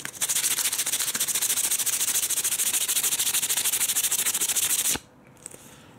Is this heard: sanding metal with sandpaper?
yes